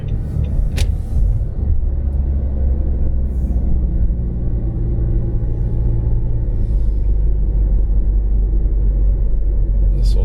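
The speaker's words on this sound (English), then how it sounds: "A lot of big rigs coming the other way." Big rig trucks pass on a rural Florida truck route near Lake Butler, heard as a loud, steady low rumble of heavy traffic with no break.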